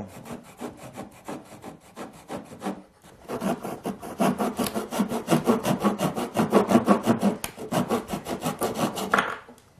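A hand saw cuts a wooden batten at 45 degrees in a miter box, with fast, even back-and-forth strokes that grow louder and fuller midway before stopping. The sawing is close and there is no talk.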